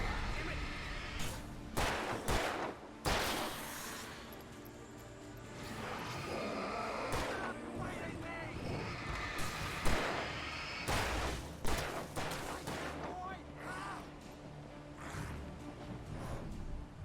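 Gunfire in the video game Alan Wake Remastered: a loud, irregular string of sharp shots and heavier booming blasts, some in quick clusters, with brief quieter gaps between.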